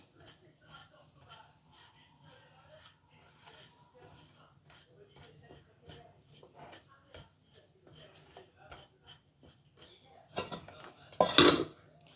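A spoon clinks and scrapes repeatedly against a bowl, stirring sugar and citrus juice in a steady rhythm, ending with a louder burst of clattering scrapes.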